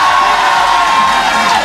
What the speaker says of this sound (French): Applaudissez l'équipe.